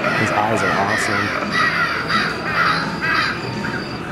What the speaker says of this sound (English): With the murder of crows in the back.